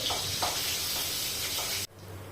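Green chillies and curry leaves sauté in hot oil in a pan, a steady close sizzle and hiss that cuts off abruptly near the end, leaving a quieter low hum.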